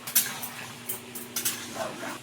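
A metal spatula stirs a pot of cooking vegetables, giving a few sparse, light scraping clinks against the pot, close and quiet.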